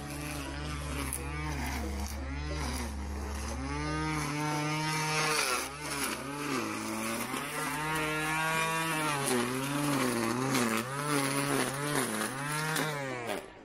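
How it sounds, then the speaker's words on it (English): A cordless weed whacker buzzes steadily at a distance, its pitch rising and falling as it cuts weeds, with no talking. "I hear the sound of weeds being whacked."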